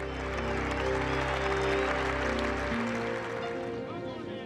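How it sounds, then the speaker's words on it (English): A golf gallery at the 2002 Open at Muirfield gives broad, continuous applause in a steady wash of clapping, with a low hum and a narrating voice over the crowd. "As the applause rang in his ears"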